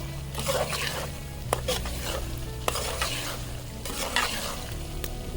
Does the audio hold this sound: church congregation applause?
no